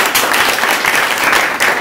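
A classroom of students applauds together in a dense burst of clapping that lasts under two seconds, loud and close, with no talk over it.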